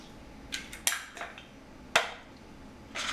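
Four eggs stirred together in a mixing bowl for a pumpkin cake: a handful of sharp, irregular utensil clinks against the bowl over a quiet room, close and clear, with no voices.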